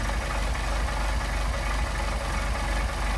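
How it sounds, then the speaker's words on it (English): Mercedes 190SL engine with Solex carburetors idling steadily, a low even rumble with rhythmic pulsing throbs, close and continuous without talk. "Now we picked up some idle there."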